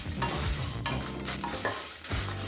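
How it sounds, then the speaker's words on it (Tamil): Chettinad mutton kuzhambu masala fries in a pan with a soft sizzle, while a spoon stirs it in several scraping strokes at a fairly quiet level, with no one speaking. "இது எல்லாத்தையும் நல்லா வறுத்துக்கலாம்."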